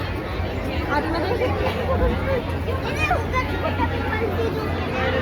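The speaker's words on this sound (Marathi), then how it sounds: "आतमध्ये सुद्धा बरीच गर्दी आहे" Crowd chatter inside the Narayanpur temple, a steady dense hubbub of many voices with a low droning hum underneath, continuous and close all around.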